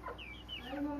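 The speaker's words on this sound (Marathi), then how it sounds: "कोंबडा." Rooster at a lone house in the forest, giving a brief faint series of rising and falling clucks, close by and quiet.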